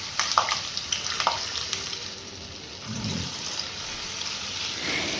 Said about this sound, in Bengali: ধোকাগুলো তো ভেজে নিতে হবে।